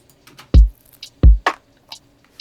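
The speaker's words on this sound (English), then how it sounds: "The drums then altogether sound like this." Electronic drums mixed together on a bus with compression: two deep booming kicks, crisp snare hits and light ticking hi-hats in a sparse, evenly spaced groove with no voices.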